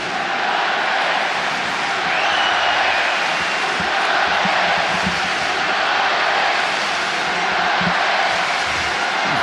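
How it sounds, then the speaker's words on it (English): Football crowd in a stadium at a Manchester United vs Sampdoria match gives off a broad, steady roar with swelling murmurs and scattered shouts, loud and continuous throughout. "crowd sensing United need a bit of a lift here"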